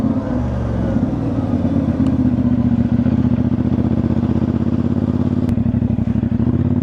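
A motorcycle engine idles steadily up close, a low throbbing rumble that holds throughout with slight fluctuations.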